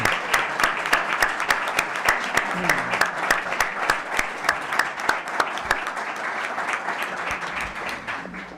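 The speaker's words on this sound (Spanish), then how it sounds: "Vamos a darle un aplauso a Enrique." Audience applause at a Spanish homage conference for Antonio García-Trevijano, honoring Enrique: sustained dense clapping from a large crowd, steady and fairly loud throughout, with faint voices mixed in.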